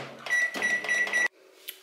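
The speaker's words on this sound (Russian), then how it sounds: "И отправляем в микроволновку где-то минут на 10." A microwave oven heating an apple-layered pie hums steadily while a series of repeated electronic beeps sounds close by, then the hum cuts off abruptly, leaving a faint tone and a brief click.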